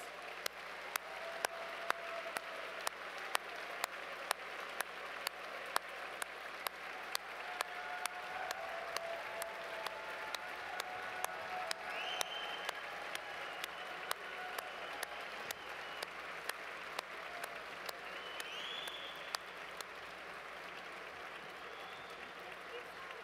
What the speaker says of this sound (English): I'd like you to join me in giving them a well-deserved round of applause